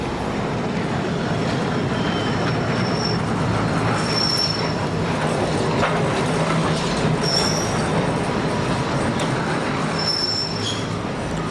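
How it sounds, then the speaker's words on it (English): A funicular railway car running near Rossio Station in Lisbon, a constant rolling rumble with high thin squeals from the wheels recurring at intervals, close and fairly loud, no voices. "several funicular railways like this one near Rosio Station help ease the strain for pedestrians"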